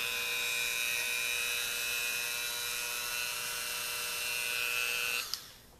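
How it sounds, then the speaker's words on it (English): A high-pitched Dremel rotary tool with a drill bit whines steadily at full speed drilling out a hole for several seconds, then spins down and stops abruptly near the end. "I'll just use my drill bit and my Dremel."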